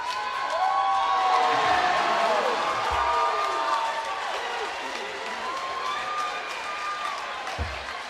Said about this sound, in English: Big throw by the shot put area. You could hear the crowd just erupt.